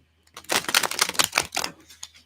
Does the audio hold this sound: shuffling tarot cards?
yes